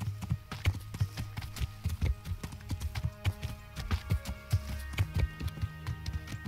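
Horse hooves clop in a steady, fast rhythm as the animal moves through a video game, each hoofbeat sharp and close over a low continuous background hum.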